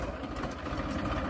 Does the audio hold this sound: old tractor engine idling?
yes